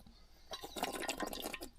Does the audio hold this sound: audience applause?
no